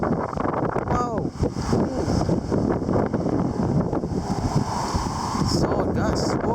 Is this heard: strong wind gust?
yes